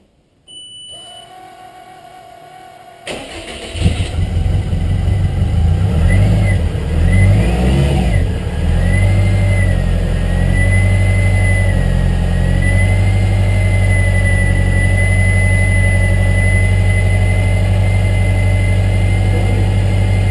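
Race car engine cranking on a lithium ion motorcycle battery: a brief starter whir, then the cold engine catches and settles into a loud, steady, rumbling idle with slight fluctuations, close by and alone.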